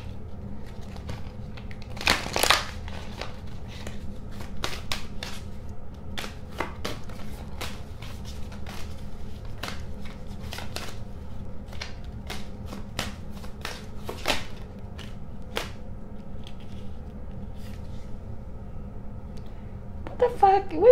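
Oracle cards are shuffled by hand in a run of sharp, close riffling snaps and flicks, irregular taps spread over about twenty seconds, with a louder burst early on.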